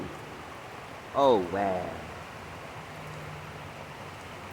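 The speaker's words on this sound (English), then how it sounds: "it's still raining" Steady light rain patters outdoors as a broad, even hiss throughout, with a man briefly exclaiming near the start over the continuous wash of falling drops.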